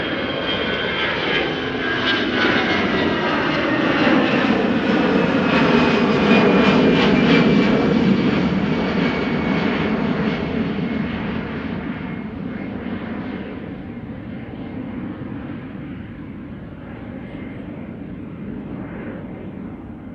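EasyJet jet airliner departing Schiphol airport, a loud sustained engine roar that swells to a peak and then slowly fades as the aircraft climbs away, with no talk.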